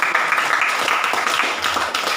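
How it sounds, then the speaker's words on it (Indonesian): A classroom group claps in a dense, continuous burst of applause, close and steady for the whole stretch. "tepuk tangan dulu untuk kita sekalian"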